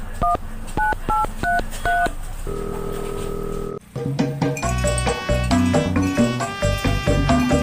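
A telephone number is dialed: a rapid series of sharp touch-tone beeps, then a steady ringing tone, followed by a musical ringtone-like melody, loud and clear with no talk.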